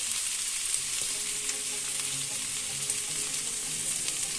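Ginger paste sizzles and fries with spices in a hot pan, a steady bright crackle and hiss running throughout at close range, with occasional soft stirring scrapes and no talking.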